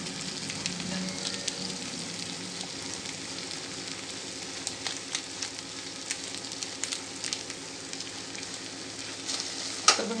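Ginger garlic paste frying in hot oil in a pan for egg curry, a continuous dense sizzle with occasional crackles and spatula scrapes, close and steady, no voices.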